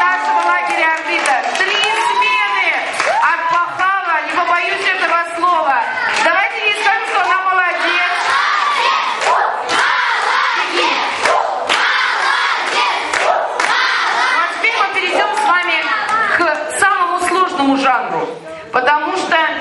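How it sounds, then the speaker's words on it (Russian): A children's summer camp audience at a counselors' concert clapping and cheering loudly, with many young voices shouting and yelling over one another in a continuous, close crowd roar. "Ну давайте ей поаплодируем."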